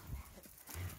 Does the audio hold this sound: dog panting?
yes